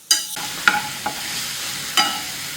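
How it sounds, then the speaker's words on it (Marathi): Garlic chili thecha sautés in a hot pan with a continuous close sizzle, punctuated by several distinct spatula scrapes and taps against the metal, no voices. "ठेचा मिनिटभर चांगला परतून घ्यायचा"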